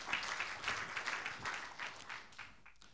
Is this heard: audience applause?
yes